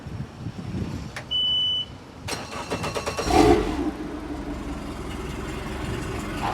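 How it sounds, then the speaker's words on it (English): A 2014 Mercury 150 outboard motor cranks and catches after a short electronic beep, then runs at a steady idle close by, loud and continuous to the end. "let's see what happens when I run the motor"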